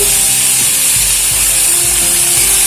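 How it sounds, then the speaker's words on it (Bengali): Vegetables for labra frying in a pan, a loud, continuous close hiss of oil with a low steady hum underneath and faint intermittent knocks, no talking. "সবজি আগে হালকা ভেজে নেব, তারপরে আবার এর মধ্যে সবজিগুলো অ্যাড করব।"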